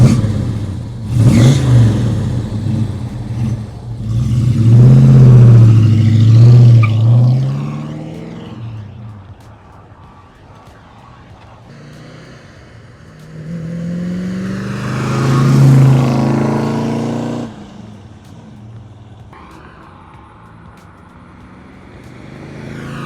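A 1971 Plymouth Duster driving past on flybys, its engine revving loud as it approaches, fading, then roaring past again nearby.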